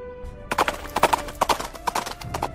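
Horse hooves clip-clopping in a quick, uneven rhythm close by, starting after a brief quiet moment, with a whinny mixed in among the hoofbeats.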